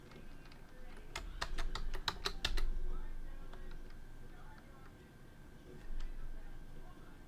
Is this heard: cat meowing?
no